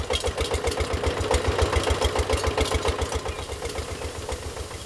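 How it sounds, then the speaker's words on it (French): A diesel engine running a pump that draws river water for irrigation in Cambodia, chugging in a fast, steady knocking rhythm at close range with a rattling, mechanical clatter and no talking. "Il s'agit maintenant de pomper l'eau du fleuve au moyen du moteur diesel."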